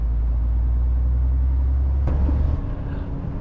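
A heavy truck accelerating away from a roundabout during a driving lesson, its engine a deep, steady rumble heard from the cab, with a sharp click partway through as the low drone eases.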